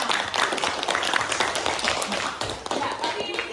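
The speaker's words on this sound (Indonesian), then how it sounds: "Oke, tepuk tangan semua." A classroom full of students claps together, a dense patter of many hands that is loud and close and continues steadily for several seconds.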